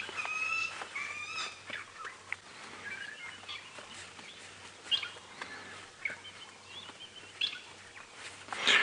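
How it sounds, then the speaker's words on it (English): Crested francolin calling from a game reserve, with harsh chirps and call bursts scattered over a faint outdoor background and a steady low vehicle hum underneath. "The crested francolin"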